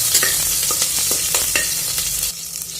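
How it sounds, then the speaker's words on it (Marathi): Onion sautéing in a pan for khichdi, a bright continuous sizzle with repeated rhythmic stirring scrapes, close and alone. "कांदा थोडासा लालसर होईपर्यंत त्याला परतून घ्या"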